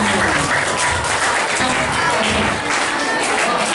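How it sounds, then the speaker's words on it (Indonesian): A roomful of people bursts into loud, dense clapping after a school talk on bullying, a continuous roar of hands close by that stays at full strength from start to finish. "Tepuk tangan untuk kita."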